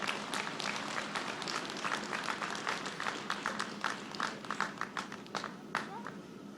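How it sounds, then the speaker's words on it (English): An audience applauds an award recipient at a Founder's Day convocation with dense, steady clapping. The applause is moderately quiet and thins into scattered claps toward the end, with faint talk underneath. "let's give her another warm round of applause"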